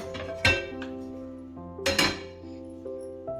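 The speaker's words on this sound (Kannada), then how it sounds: "ಈಗ ಸ್ಟವ್ ಹಚ್ಕೊಂಡು ಪಾನ್ ಇಟ್ಕೊಳ್ಳೋಣ." A metal pan set down on a kitchen stove, two sharp clanking impacts with ringing metallic resonance and a few lighter clinks between, close and alone.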